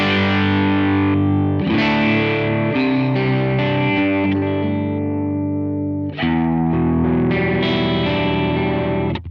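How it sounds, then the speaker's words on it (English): Crunchy, distorted electric guitar through a Kemper Profiler amp modeler, playing loud sustained chords with a brief break near the six-second mark, then ringing on alone without talk. "let's see if we can find more of a crunchy sort of tone"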